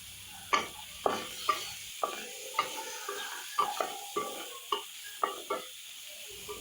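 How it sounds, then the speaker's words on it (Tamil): Cleaned prawns sautéed with spices in a pan, a soft steady sizzle broken by repeated sharp scrapes and knocks of a spoon stirring, about a dozen strokes in a loose rhythm, close by. "சேர்த்துட்டு எல்லாம் கோட்டிங் ஆகிற மாதிரி நல்லா வதக்கி விட்டுடலாம்"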